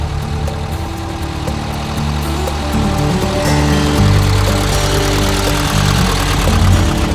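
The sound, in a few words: hunting buggy engine running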